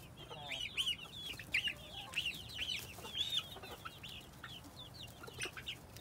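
Roosters and chickens clucking on a farm, a run of repeated close clucks and short squawks at varying pitch over faint background noise.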